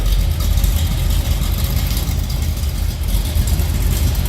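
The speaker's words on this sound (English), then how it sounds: "Slip around to the back so you can hear the 350, got a little rumble to it." A 1979 Chevrolet Corvette L82 coupe with a 350 crate engine idles from behind the car, a steady low rumble that holds close and loud with no voices over it.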